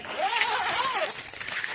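A loop zipper on a Strataglass boat enclosure is pulled open in one long, close, rasping stroke that rises and falls in pitch, followed by a few small clicks and rustles.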